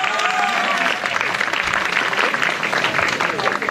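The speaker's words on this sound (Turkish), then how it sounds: "Alkışlarınızla." Audience applause at a park opening ceremony as a guest is called to the stage, a dense, steady burst of many hands clapping at close range that holds for the whole stretch.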